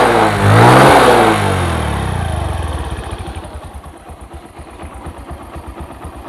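A second-hand Bajaj Platina 100cc motorcycle engine starts with a loud rev that swells and fades, then settles into a steady, close, pulsing idle with no talking.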